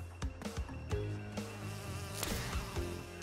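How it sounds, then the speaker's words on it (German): Bees buzzing in the Crash Bandicoot 2 remastered platform game, a dense insect drone that runs steadily throughout with sharp game hits and effects layered on top. "Ihr hört die Bienen direkt und wundert euch, warum ich nicht reagieren kann."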